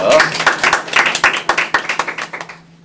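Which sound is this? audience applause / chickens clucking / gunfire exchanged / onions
audience applause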